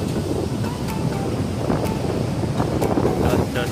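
Sea waves at Petanahan beach in Kebumen, a loud continuous roar of surf mixed with heavy wind buffeting the microphone, with no distinct breaks.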